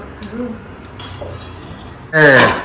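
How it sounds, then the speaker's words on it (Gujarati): Metal utensils and dishes clatter sharply at the end after a quiet stretch with faint indoor sounds. "આ વાસણ બધે ખખડાવવામાં"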